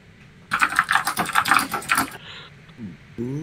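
Rapid computer keyboard typing rattles close and steady for about two seconds of clustered keystrokes, followed by a brief pause and some faint voice-like sounds.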